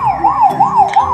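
A toy police car siren wails in a fast, steady up-and-down sweep, loud and close, with no voices over it.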